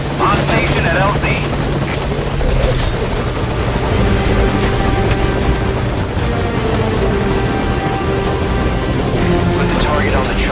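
A helicopter sits at a landing zone in the video game Metal Gear Solid V, its loud, steady rotor and engine drone filling the whole stretch without a break.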